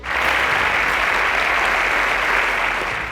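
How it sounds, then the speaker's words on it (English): A studio audience claps for a contestant on a televised school quiz semi-final in Nigeria, producing a dense, even burst of applause that holds steady at full strength before easing slightly at the end, with no talk over it. "A round of applause for Oyelude."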